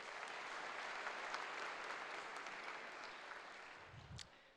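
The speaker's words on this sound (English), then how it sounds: "Could we get a round of applause," Sustained audience applause at a university engineering faculty graduation ceremony, given for the guest speaker: a dense, steady wash of many hands clapping that fades slightly toward the end, with no talking over it.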